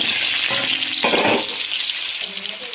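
Cut potatoes sizzle loudly in hot oil with cumin seeds in a wok, a bright continuous frying hiss broken by a few scraping stirs of a spatula.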